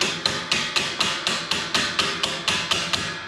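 Steady hammer strikes land about twice a second, a dozen sharp metallic blows in an even rhythm, close and loud.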